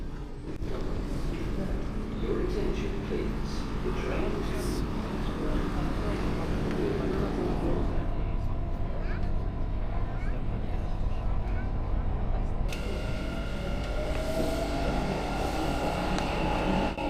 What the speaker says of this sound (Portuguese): Olha só como o metrô está lotado.